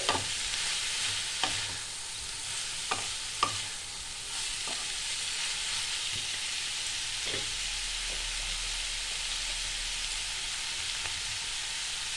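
Egg chowmein ingredients stirred in a frying pan, with steady loud sizzling throughout and a series of spatula scrapes and clacks against the pan every second or two, close up with no voices.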